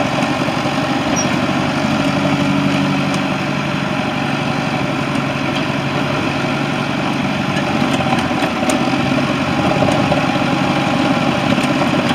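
A 1988 Blaw-Knox RW100 street sweeper runs its broom at speed, a steady, loud mechanical drone with engine hum and rumbling vibration that holds without a break and with no talk.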